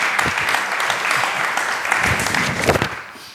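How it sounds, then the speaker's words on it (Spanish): Steady applause from a press conference audience honouring Natalia Casillas, a dense wash of clapping lasting about three seconds and tapering at the end. "Entonces Natalia Casillas, pido un aplauso para ella"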